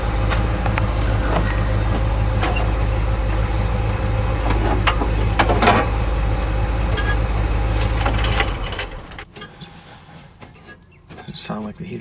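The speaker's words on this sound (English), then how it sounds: "Sound like the heater fan's working." The heater fan of a 1965 Chevrolet Malibu convertible whirs steadily at close range, cutting off near the end and leaving only faint background noise, with a voice speaking briefly over it.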